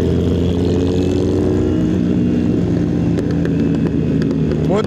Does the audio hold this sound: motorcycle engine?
yes